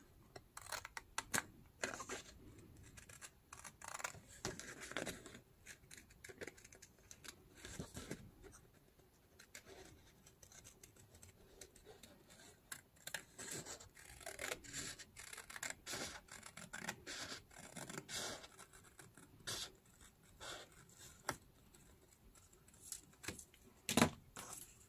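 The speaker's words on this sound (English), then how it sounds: "I'm gonna take my scissors and cut the pattern I just drew." Quiet, irregular snipping and paper rustling close by, a long run of small cuts with brief pauses between them.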